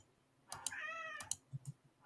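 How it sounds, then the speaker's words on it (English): A pet cat meows once, clear and close, from outside a door, between sharp clicks and soft thumps nearby. "I hear a cat."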